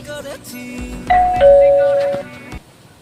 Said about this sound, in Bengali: এই যে কলিং বেলটা বাজাও তবে তো শুনতে পাবে